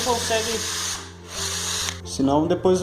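An electric drill bores holes in wood for a large adjustable dog pen, whirring steadily with brief dips in pitch and a short pause, while a person talks over it.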